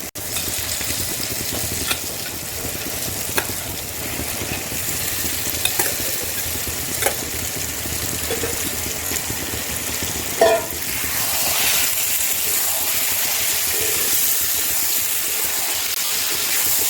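Duck meat with spices frying hard over a high gas flame, a steady loud sizzle with occasional sharp spatters and a brief surge near the middle, no talking.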